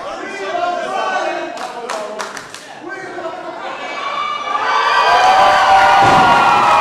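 Crowd at an independent wrestling event cheering and clapping, with scattered shouts and sharp claps early on, then the noise swelling into a louder, sustained ovation with shrill voices and whistles near the end.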